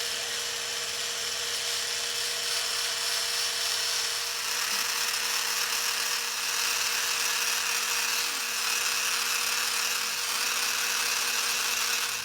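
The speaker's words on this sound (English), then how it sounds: "I'm going to take this electric whisk here, and I'm just going to start to whisk them" Electric hand whisk beating egg whites in a bowl, a steady continuous high motor whir lasting throughout with a faint rattle, close and fairly loud, no talking.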